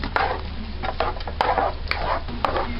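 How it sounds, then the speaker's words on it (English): Half a bag of vegetables stirred in a pan for shrimp scampi while they soften: close, repeated scraping strokes of a utensil against the pan, with a steady low sizzle underneath and sharp clicks at irregular intervals, no voices. "And you just stir it and let it start getting tender."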